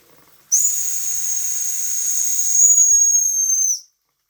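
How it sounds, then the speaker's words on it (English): Steam roars from the lifted safety valve of a restored Jensen steam engine, a loud steady hiss with a bright whistling tone that bursts on abruptly, holds for about three seconds and then cuts off. "Safety valve is lifted."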